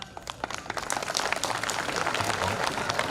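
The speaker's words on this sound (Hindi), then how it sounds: "इसलिए इतनी ताली बजाइएगा" Applause from an audience at a religious speech, clapping that starts thin and swells into a fuller, sustained burst of a crowd clapping.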